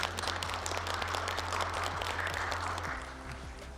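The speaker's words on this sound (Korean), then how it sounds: "예, 박수 한번 보내주십시오." An audience at a Korean political talk event applauds, a steady wash of many hands clapping at moderate distance that thins and fades near the end.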